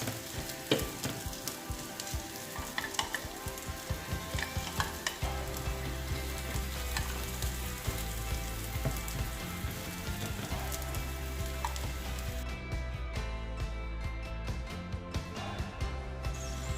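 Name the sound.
gozleme crepe frying in hot buttered pan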